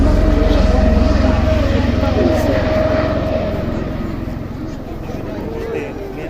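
Helicopter running nearby, a loud continuous rotor and engine drone with low throbbing pulses that eases slightly over several seconds, with voices faintly present.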